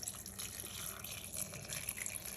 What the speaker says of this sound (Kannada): ನಾನು ಇದು ಮುಳುಗೋಷ್ಟು ನೀರು ಹಾಕ್ತಾಯಿದ್ದೀನಿ